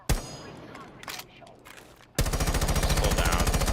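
Assault rifle fire in Rainbow Six Siege: after a quieter stretch of scattered game sounds, a loud, rapid full-auto burst starts and runs steadily to the end with an even, fast rhythm.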